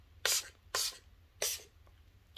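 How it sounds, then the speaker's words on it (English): Three short hissing bursts from a spray bottle misting near the face during an ASMR Reiki session, evenly spaced and close, with no talk over them. "I'm just gonna gently cover your eyes and I'm gonna spray."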